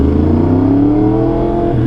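Yamaha R1 sport motorcycle engine revving loud and close, a steady raw roar with pitch slowly rising across the short stretch, no voices.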